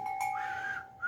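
A thin, steady whistle tone holds for about a second with a shifting higher overtone, standing in for an approaching train as an old silent-film sound effect, fairly quiet and alone.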